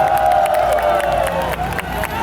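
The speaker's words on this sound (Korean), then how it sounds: "여러분 큰 박수로 환영해 주시기 바랍니다." A large outdoor crowd at a 2023 Buddha's Birthday lotus lantern parade cheers and applauds to welcome a Nepalese Buddhist group, a loud, continuous wash of voices and clapping.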